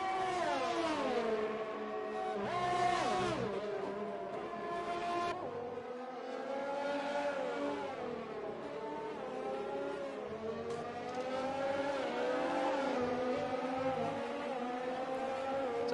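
Several Formula 1 race cars on track in F1 2020, their high engines wailing and shifting pitch as they accelerate, change gear and pass one another in a continuous, loud, dense roar.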